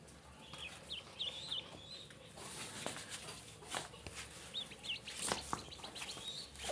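Small native ducklings giving short, high chirping calls in scattered bursts near the camera over soft background noise, with no talk.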